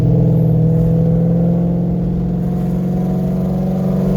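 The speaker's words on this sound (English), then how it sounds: "So I'm gonna give it gas, and you won't hear the car really flare up." Coyote-swapped Ford Fairmont with a 6R80 automatic accelerating under gas, a steady deep engine drone with a low rumbling hum that rises slightly, heard from inside the car, loud and continuous with no talking.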